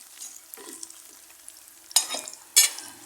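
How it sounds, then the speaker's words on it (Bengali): Black cumin seeds frying with garlic and onion in a pan, a quiet sizzle broken by a few sharp stirring scrapes and clatters, two of them loud near the end, no talking. "আমি এর ভিতরে কালো জিরাগুলো দিয়ে এখন ভেজে নেব"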